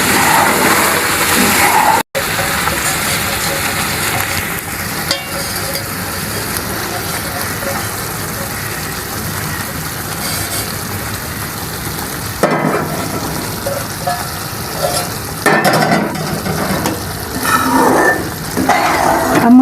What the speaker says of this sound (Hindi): इसमें शामिल करेंगे चम्मच चलाते हुए ताकि सूजी में गुठलियाँ ना बने